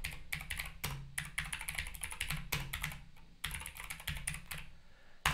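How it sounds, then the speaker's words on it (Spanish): Rapid clattering of computer keyboard keys typing an author's name into a search, in bursts of quick close-up keystrokes separated by short pauses, with no voices. "si yo escribo ahora Galdós"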